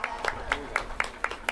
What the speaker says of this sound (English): Big round of applause, ladies and gentlemen, to these youngsters of the Junior Trot.